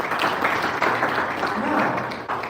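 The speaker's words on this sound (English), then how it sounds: "Can you clap for them as they go?" Audience applauding at a live wellness business talk, a dense continuous clapping from many hands in a room, with speech mixed in beneath it.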